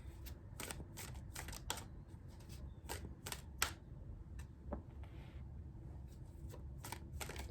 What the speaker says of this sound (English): I'm going to keep pulling cards